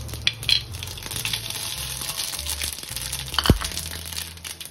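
Mustard seeds sizzling in hot oil in a single pot while cooking mango rice, a soft steady crackle with scattered pops and a sharp clatter near the end, fairly quiet and without speech.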